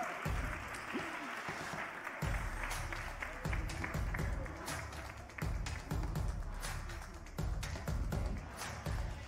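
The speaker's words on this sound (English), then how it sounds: "Come on, let's clap for her until she gets to the stage." An audience at a school challenge final applauds, a dense sustained clapping that swells and dips in waves, fairly distant and filling the hall, with a voice occasionally heard over it.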